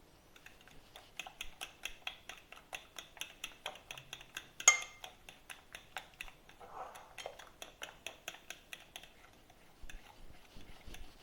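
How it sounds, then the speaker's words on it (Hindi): Cake batter of sugar, eggs, butter and milk being mixed in a bowl, a steady rapid run of light clinking taps from a whisk or spoon against the bowl, close and quiet, with one sharper clink partway through and no talking. "हम दूध डाल रहे हैं और इसको भी मिक्स करना है हमने"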